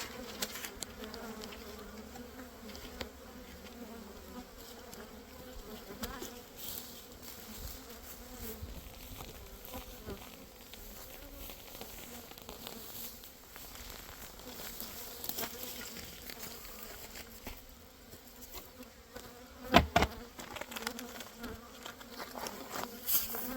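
A dense, continuous hum of many honeybees buzzing close by around an open hive, with occasional soft knocks and rustles, no voices.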